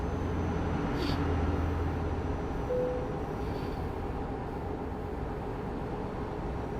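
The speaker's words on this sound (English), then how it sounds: "Is that a train?" A train passes steadily, a broad continuous rumble and rattle of rail cars holding at an even level throughout, with a faint high whistle-like tone near the start.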